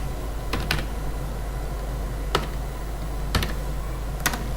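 A few sparse keystrokes on a computer keyboard while a captcha is entered: scattered single clicks and a quick double tap, close and crisp over a faint steady hum.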